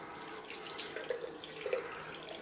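Cold water running steadily from a bathroom tap after a head and face shave, a continuous close splashing hiss with faint drip-like accents and no voices.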